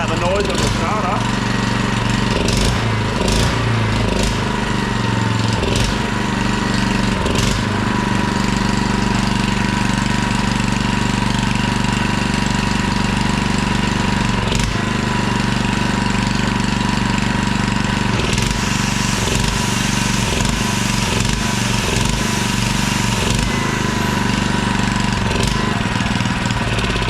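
A $20 auction-find generator engine runs steadily and loudly for the whole stretch, a dense rough mechanical drone with occasional knocks and clatters and a faint squeal, while someone talks now and then over it.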